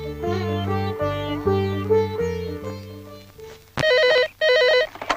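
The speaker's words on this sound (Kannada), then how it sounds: "ಫೋನ್ ಬಂದಿದೆ ಕಣೆ" An electronic phone ringtone from a scene in the Kannada film Mandya rings in two loud, warbling bursts near the end, right after a passage of music.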